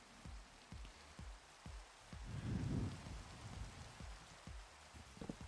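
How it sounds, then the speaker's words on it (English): Minecraft rain falls steadily in the game world, a soft hiss with scattered drop patters and a brief swell of heavier downpour midway, quiet and alone without voices. "enough with the rain now"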